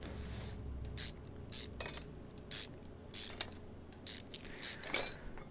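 A ratchet loosens a rusty bolt on an engine cover in the video game Car Mechanic Simulator 2021. The clicks come in quick, repeated bursts, close and clear, with no one talking.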